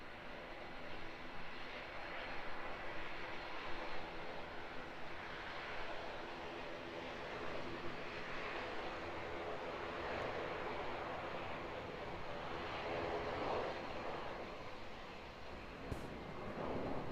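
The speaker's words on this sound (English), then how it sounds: "So we'll transition into that A320 for you guys as it flies past." Airbus A320 departing Auckland Airport, New Zealand, and flying past, heard as a steady, distant jet roar that holds level throughout, with light wind noise on the microphone.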